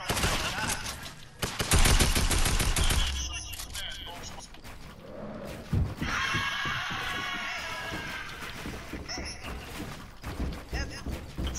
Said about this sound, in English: Look at him shooting.